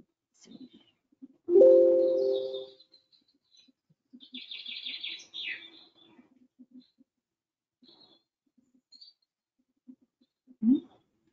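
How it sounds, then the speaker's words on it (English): A recorded forest soundscape full of birds, with one loud close call near the start, then scattered chirps and short trilling songs spread across quiet gaps. "That one's a lot of birds."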